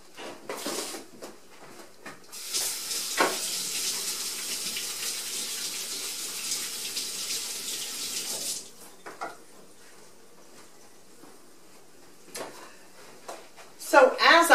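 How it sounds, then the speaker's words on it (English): Hands being washed at a kitchen sink, a faucet running in a steady rush for several seconds, then stopping, with brief handling clatter and close speech at the end. "I'm going to wash my hands and then we'll get started."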